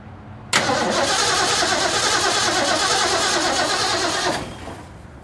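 A 1966 Ford Mustang engine cranks and catches, a loud, steady churning roar starting abruptly and holding for nearly four seconds before dropping off, heard up close with no talking.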